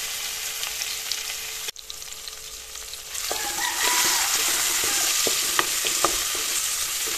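Chopped onions and garlic sizzle steadily in hot oil, with a hiss that grows louder and denser partway through and spoon stirring and scraping on top.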